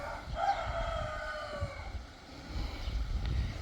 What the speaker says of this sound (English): you've got this big